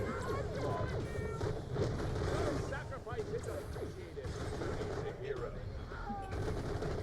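Bekah gun fire in Borderlands The Pre-Sequel, rapid, loud repeated shots in an ongoing firefight with impacts and game effects, with brief voice-like calls mixed in.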